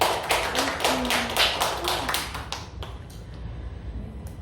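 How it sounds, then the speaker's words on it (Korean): Church congregation clapping to praise God during a Sunday sermon, a run of sharp rhythmic claps in unison at a steady beat that fades into scattered taps, with brief voices in the background. "우리 하나님께 박수 드려요."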